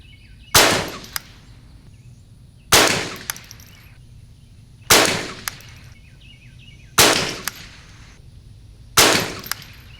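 Savage 64 Takedown semi-automatic rifle fired outdoors during iron-sight accuracy testing: five sharp, loud single shots spaced about two seconds apart, each with a short echoing tail.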